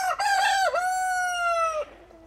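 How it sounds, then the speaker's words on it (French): A single rooster crows loudly and close by from a show enclosure of quarantined hens and cockerels, its long call wavering before breaking off into a short cluck. "Toutes les poules et coqs."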